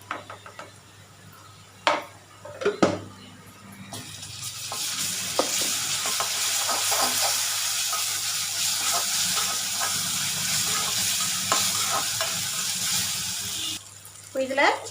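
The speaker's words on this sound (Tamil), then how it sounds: "வதங்கினதும் ஒரு ஸ்பூனு இஞ்சி பூண்டு விழுது போட்டுக்குங்க." Onions fry with ginger-garlic paste in a pan, a steady loud sizzle running through most of the stretch, with a few stirring scrapes near the start and end.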